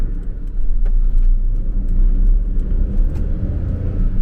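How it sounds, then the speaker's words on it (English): A Daihatsu Cuore L701 three-cylinder engine heard from inside while driving, a steady loud rumbling drone with slight rises in pitch, no talking. "These raw three-cylinder engines are just awesome."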